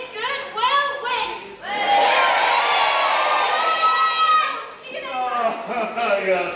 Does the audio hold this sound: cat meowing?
no